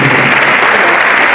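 Steady, dense applause from an audience at a university nursing induction ceremony, loud and continuous throughout with no voices above it.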